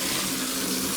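Water gushes steadily from a garden hose into an ice bath tub, a loud, even rushing splash that holds unchanged for about a second.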